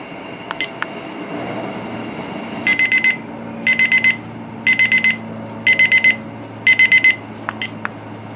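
A kitchen timer beeps in five quick bursts of rapid chirps, evenly spaced about a second apart, over a low background hum, during salsa canning.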